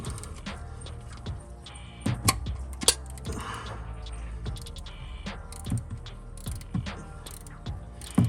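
A ratchet with a 15 mm socket works an oil pan bolt on a 2023 Ford F-150 during an oil change, giving quiet, irregular clicks and mechanical rattles up close with no speech.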